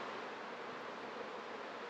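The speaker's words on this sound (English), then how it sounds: "look at the amount of bees in this colony" Honeybees crowd a busy hive colony, giving a dense, even buzz that stays close and constant for a couple of seconds, with no talking.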